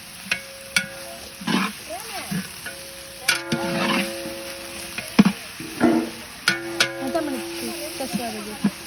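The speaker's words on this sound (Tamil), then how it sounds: "ப்ரௌன் கலர் வரைக்கும் அப்படியே ஸ்டிர் பண்ணிட்டே இருங்க" Onions frying for mutton biryani in a large batch, made outdoors on a mango farm, stirred with steady sizzling and repeated scraping strokes, close and fairly loud, with voices talking over it.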